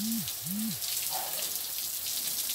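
A hose sprays water onto ferns and plants outdoors, a steady hissing, splattering wash close by, with a couple of short tonal sweeps early on.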